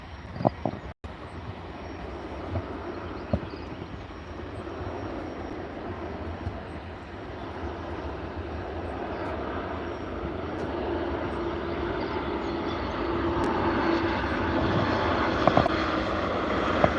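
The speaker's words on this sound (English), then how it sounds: "So this is your Ryanair coming in from Faro." Ryanair airliner arriving from Faro at Liverpool Airport, a steady jet engine roar that slowly swells louder as the plane approaches, heard from outdoors at some distance with no talking.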